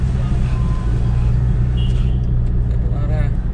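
Steady low road rumble of tires humming inside a moving Mitsubishi Pajero Sport Dakar, continuous and fairly loud, with faint voices in the background.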